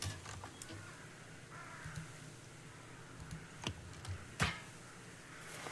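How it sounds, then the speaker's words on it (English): Horror video game ambience plays faintly: a low, steady wind bed with occasional distant crow caws and scattered clicks and ticks over roughly six seconds. "The background noise with the birds and the wind, coupled with the music too."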